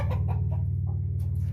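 An American Bresse rooster clucks in a series of quick, close, rhythmic clucks over a steady low hum.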